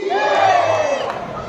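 A devotional crowd at a Shri Sai Baba program for special kids shouts a loud, unified cheering chant, a sustained swell of many voices that fades slightly at the end.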